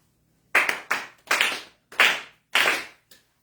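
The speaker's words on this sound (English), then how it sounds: "let us clap our hands 4 times together." A congregation at a monthly religious service claps hands together in unison, five sharp distinct claps in steady rhythm, close and clear with quiet between them.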